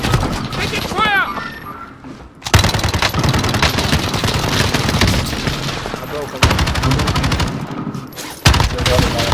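Rapid automatic gunfire in a multiplayer battle-royale shooter game, loud, close bursts of machine-gun fire broken by short pauses, mixed with game sound effects and a player's voice talking.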